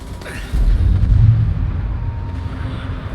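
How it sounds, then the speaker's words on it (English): A facility under attack in the video game Mass Effect 2 rumbles with a heavy, deep explosion that booms in near the start and leaves a long low roar trailing off, loud and close. "Shield yourself from the blast"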